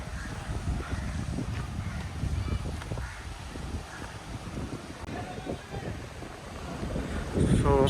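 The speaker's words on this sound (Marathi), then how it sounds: "सो ॲक्च्युली हा चिवला बीच आहे. मालवणच्या एकदम जवळ आहे" Gusty wind buffets the microphone at Chivla beach near Malvan, a low rumbling roar over faint surf, fairly quiet throughout.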